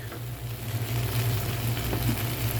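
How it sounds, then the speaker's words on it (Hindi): Chopped tomatoes, finely cut green chilies and garlic frying in a pan for egg shakshuka, making a continuous close sizzle over a low steady hum, with no speech. "हम टमाटर डाल देंगे और 3 से 4 हरी मिर्चें बारीक कटी हुई ये डाल देंगे और इनकी थोड़ी सी भुनाई करेंगे"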